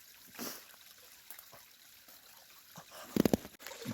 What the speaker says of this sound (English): check out this fucking gorgeous little waterfall